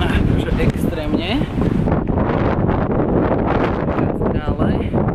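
A strong wind in Helsinki roars and buffets the microphone in loud, gusting rushes, with voices faintly heard through the noise.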